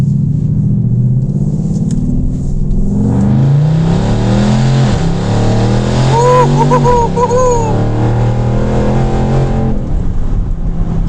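A 2019 Range Rover Sport engine is blipped and revved hard in manual mode, then accelerates, its loud, close roar rising and falling through several surges with no talking.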